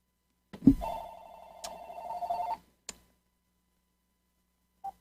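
An old-style telephone bell rings in a room during a live-streamed Sabbath service: one sustained electronic ring of about two seconds after a click, then brief single chirps, fairly close, with no talk over it.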